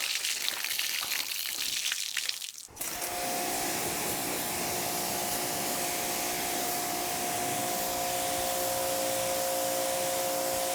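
Water spray rinsing a freshly waxed car, a steady broad hiss starting abruptly after a short louder burst and running continuously at close range with a faint tonal whine underneath.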